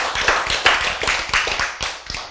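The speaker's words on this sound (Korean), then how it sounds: "여러분은 감동을 받아서 박수를 쳤지만" Church audience applauding after a sermon, a brief round of close, fairly loud hand clapping with an uneven rhythm, and no talking over it.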